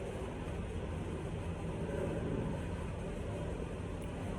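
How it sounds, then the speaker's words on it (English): Steady, broad engine roar of an airplane passing overhead, continuous and moderately loud with a slight swell near the middle, heard alone without speech. "I don't know if you guys can hear the airplane or not"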